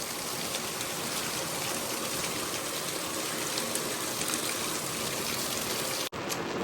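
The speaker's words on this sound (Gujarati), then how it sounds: "આજે વરસાદ આવ્યો છે બહુ સરસ." Rain falling outside in a Gujarat village, a steady dense hiss of rainfall and water without pause, close and fairly loud, ending with a brief drop-out.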